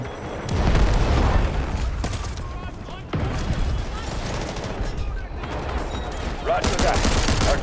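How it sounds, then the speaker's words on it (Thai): Artillery barrage in the shooter Delta Force, with heavy booms and explosions coming in repeated loud bursts, plus scattered gunfire and low rumble running under speech. "artillery barrage incoming"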